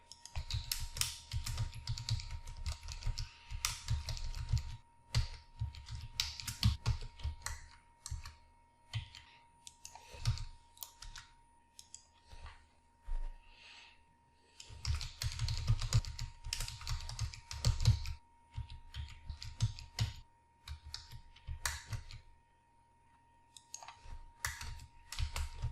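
Keys clatter on a computer keyboard in bursts of rapid typing separated by short pauses, close and fairly quiet, with no talking.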